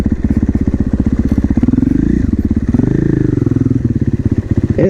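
Supermoto motorcycle crossing a bridge, its single-cylinder engine chugging in rapid loud pulses close to the microphone, with the pitch rising and falling as the throttle changes.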